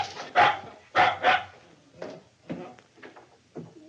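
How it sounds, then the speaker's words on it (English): A dog barks in several sharp bursts, a couple of loud close barks followed by softer, shorter yaps spaced out over a few seconds. "Dagwood, stop barking back at her and go see what's the matter."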